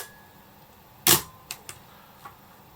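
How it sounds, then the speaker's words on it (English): Praktica BCA electronic 35mm camera firing its shutter release: one sharp, loud mechanical clack, followed by a few fainter clicks as the mechanism settles, set against a quiet room. "Shutter release."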